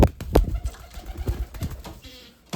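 Pigeons in a cage coo in a few low, throaty bursts nearby, with brief pauses between calls and some soft rustling around them.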